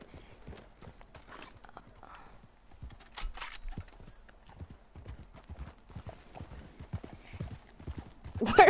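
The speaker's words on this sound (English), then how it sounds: "Where's my horse going?" Rhythmic clip-clop of horse hooves trotting in the video game Red Dead Redemption 2 Online, with an occasional whinny, close and clear, ending in a louder burst.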